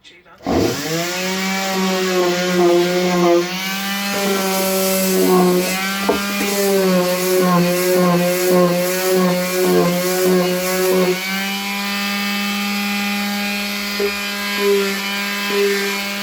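A power sander whines steadily against wood for a key box, its motor holding a constant droning pitch with slight wavers as pressure shifts.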